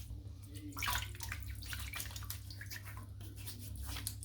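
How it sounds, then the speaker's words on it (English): Bloom water from soaking a shaving soap is poured out of a shaving bowl during a first shave with a WECK razor, a steady close splashing trickle into a basin over low background hum, with no talking. "I'm just going to pour the bloom water out"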